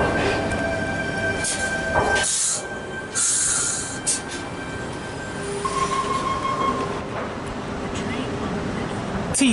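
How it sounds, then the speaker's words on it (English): Sydney suburban electric train at Thornleigh station, arriving into platform 2 as a Gordon via Strathfield service, rumbles and hisses steadily with squealing wheels and brake sounds, close and fairly loud, with a voice speaking over it. "We have T30 and its friend arriving into platform number 2, Gordon via Stratfield service."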